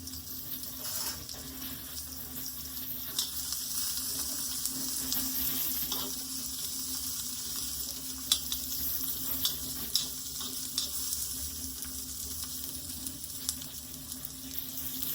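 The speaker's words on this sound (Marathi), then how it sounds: "असा मी कांदा घालून घेतलाय त्याच्यामध्ये आता मी तो चांगला परतते कांदा" Onion sautéing in a pan gives a steady, faint hiss of sizzling oil with a few light clicks of stirring throughout, no voices present.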